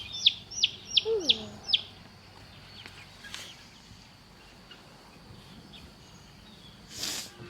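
Newly hatched Narragansett turkey poults give a quick run of about five high, thin peeps close by. A quiet stretch follows, then one soft rustle near the end.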